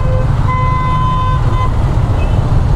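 Car horns honk repeatedly over a dense rumble of road traffic, several long steady toots overlapping in a busy street.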